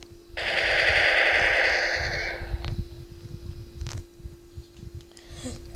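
A long, dense burst of automatic AK-47 fire rattles for about two seconds in the video game Counter-Strike, followed by a few single shots and some game noise.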